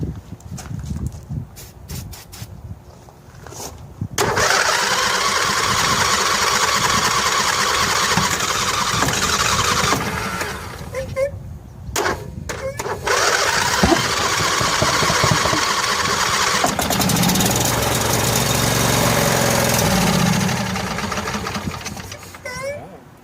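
A John Deere L118 lawn tractor's Briggs & Stratton 22 HP twin engine cranks in short bursts, then catches and runs roughly with a loud steady clatter, cutting out and restarting; a voice speaks in between.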